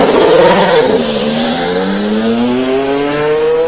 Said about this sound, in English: He's already figured out how to leave the pits, which will come in handy on race day.